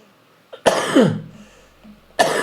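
Two harsh, sudden coughs burst out close by, separated by a short pause.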